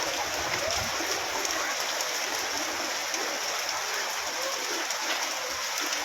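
Torrential rain mixed with hail pours down in a dense, constant roar, loud and unbroken throughout with no pauses.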